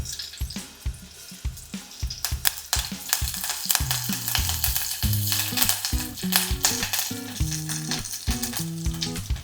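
Curry leaves and mustard seeds fry in hot oil, producing loud crackling spits and sputters, dense at first and then continuing under background music.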